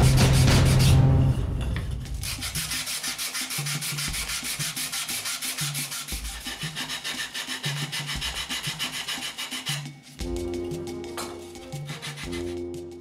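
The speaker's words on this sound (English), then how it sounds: "After each cut, I sand a bit the corners to eliminate any possible splinters." Sandpaper rubs back and forth over the cut corners of a wooden woodturning platform, close and steady in even repeated strokes, with no talking.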